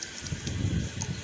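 Water splashes and gurgles as it is poured into a sattu drink, a close, steady liquid pour with a few bright drips over a low bubbling wash.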